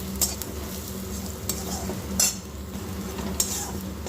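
Garlic and turmeric tempering in hot oil for dal crackles steadily in a pan, punctuated by several metallic clinks and scrapes of a spoon against the vessel.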